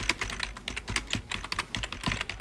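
Quick, uneven bursts of typing on a computer keyboard, close and clear with sharp key clicks in a rapid run and no speech.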